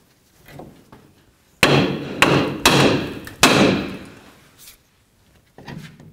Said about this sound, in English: use our hammer, and we're going to bonk along this area here